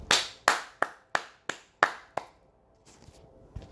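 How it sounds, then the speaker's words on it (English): Seven sharp, separate hand claps in a fairly even rhythm, close and loud, each ringing briefly before the next, followed by a few faint taps and rustles as the claps stop. "We got to clap that up for wisdom."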